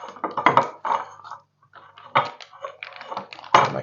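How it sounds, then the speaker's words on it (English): Scraping and clinking of a utensil against a pouch or container while stirring a rehydrated British army ration meal, in irregular close bursts with brief pauses. "So let's give it a stir."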